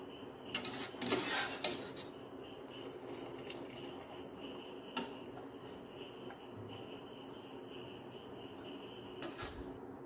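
Parboiled rice, about three-quarters boiled for a paneer dum biryani, is scooped from a pot, giving a scrape and clatter of utensil on metal early on, then a steady hum with a few faint knocks.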